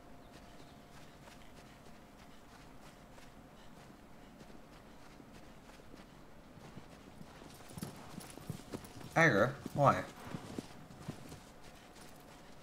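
Horse hooves clip-clop steadily in the video game Shadow of the Colossus, a soft continuous walking rhythm that grows louder and busier near the end, with a brief spoken question over it.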